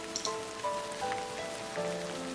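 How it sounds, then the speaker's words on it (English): Rain pouring down on a deserted city street, a soft, steady patter of drops under a faint sustained musical tone, quiet and continuous. "More rain pours down, getting into my eyes and making them blur."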